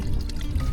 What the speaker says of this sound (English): There's water inside the gearbox, just running out the seal.